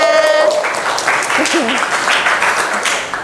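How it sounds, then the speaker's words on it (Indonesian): A class of students claps together during a school lesson, a lively burst of applause with some voices calling out over it. "Tepuk tangan dulu buat kalian semuanya."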